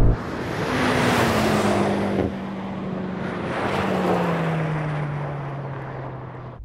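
A BMW M5 launches in a drag race, heard from a distance as a loud engine roar. The roar surges in two long swells, its pitch sliding slowly downward, then fades; no one speaks.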